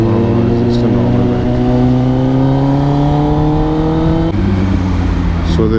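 A 2022 Kawasaki ZX10R superbike exhaust revving hard and loud, the engine note climbing steadily through a gear before a brief shift and rising again, close by with a constant roar.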